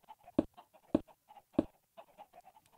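Chickens cluck on a chicken farm in Minecraft, with three sharp louder clucks spaced apart among a run of softer, faint clucking notes, no talk.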